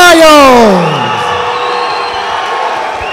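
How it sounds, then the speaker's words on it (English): At a kickboxing fight night, an announcer's drawn-out, falling call gives way to a loud, sustained roar of cheering from the crowd for fighter Joe Miles. "Please put your hands together for Joe Miles!"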